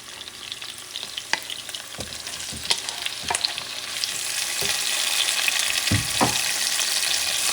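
Garlic and then tomatoes sauté in a pan for beef mechado, with scattered spatula scrapes over a light sizzle that swells into a fuller, louder hiss midway through, with no voices.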